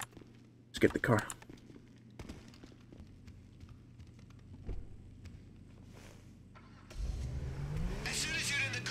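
A car engine revs up in the GTA video game during a casino heist mission, rising loudly over the last couple of seconds after scattered gameplay noises and voices.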